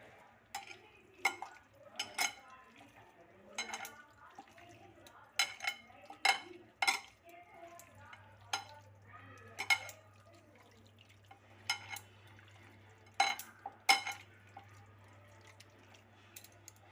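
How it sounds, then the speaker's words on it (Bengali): Chicken meat is worked by hand in a marinade with garlic and ginger paste, giving a series of soft, wet squelching slaps that come in irregular bursts, close and quiet. "আমি হাত দিয়ে মাংসটাকে ভালো করে মাখছি।"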